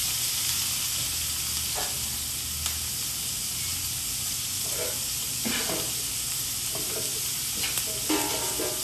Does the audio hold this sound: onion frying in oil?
yes